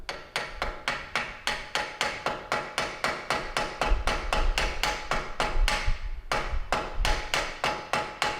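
A hammer strikes a chisel against a car brake disc while a 2003 Mini wheel bearing is replaced. About twenty quick, evenly spaced metallic blows ring out close by, with a brief pause before the last few.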